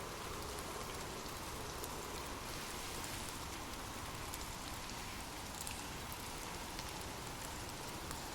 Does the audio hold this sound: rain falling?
yes